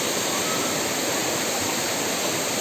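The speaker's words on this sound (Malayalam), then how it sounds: "ഇതാ പുറകിൽ കാണുന്നുണ്ട് നമ്മളെ വെള്ളച്ചാട്ടം." Ezharakund waterfall in Kerala roars as a dense, steady rush of falling water, loud and close, with no voices and no break.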